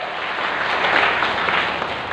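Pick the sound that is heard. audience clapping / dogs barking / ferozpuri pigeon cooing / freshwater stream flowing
audience clapping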